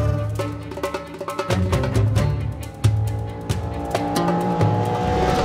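Ferrari Purosangue with a V12 engine cruising fast on a desert road, loud engine note with shifting revs and repeated sharp bumps and road thuds, heard close from the car.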